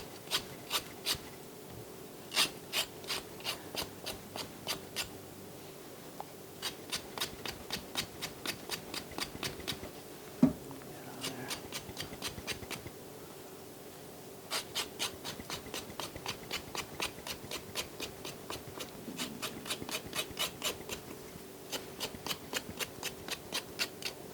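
Close, quiet, rhythmic scraping as a knife edge rasps the skin off a vegetable for chicken and vegetable soup, in quick bursts of strokes separated by short pauses.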